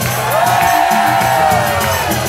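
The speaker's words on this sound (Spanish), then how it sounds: "A ver, centroamericanos, un grito jubilado." A Central American church congregation shouts and cheers at a worship service, a loud, dense, unbroken roar of many voices with whoops rising above it.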